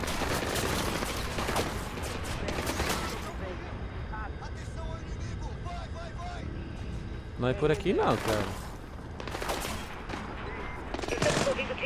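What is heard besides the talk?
gunfire in a video game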